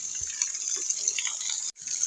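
Spring water flowing out from under a rock where villagers fetch water, heard as a steady close gushing hiss that breaks off for a moment near the end and then resumes.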